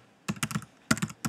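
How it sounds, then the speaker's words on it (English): Typing on a computer keyboard, two quick bursts of crisp key clicks close up, a few keystrokes each with a short pause between, no talking. "I'll just type in his name"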